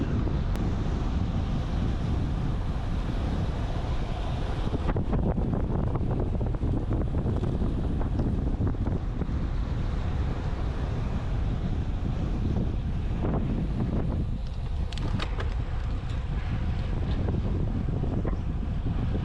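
Strong wind roars past a cyclist riding a country road in the Yorkshire Dales under a cross tailwind, a constant loud buffeting rush over the microphone with no speech.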